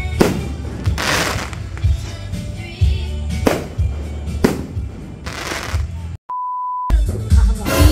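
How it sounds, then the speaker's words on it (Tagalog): New Year's Eve fireworks at a family celebration crackle and boom in repeated loud bursts, with a steady electronic beep cutting in briefly near the end. "Ganda po ng fireworks."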